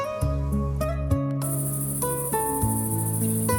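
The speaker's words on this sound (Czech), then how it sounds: "jakoby jí vítal koncert cvrčků v trávě" Crickets chirp in the grass on a summer evening as a steady, high, continuous trill that begins partway through, layered over sustained soft musical tones, with no talking.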